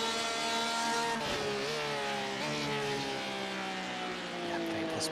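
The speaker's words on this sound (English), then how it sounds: "Look at the lock-up there" GT race cars circling Silverstone in iRacing, with loud high-revving engines holding steady and a brief squeal from a locked wheel under braking, while a commentator talks over the sound.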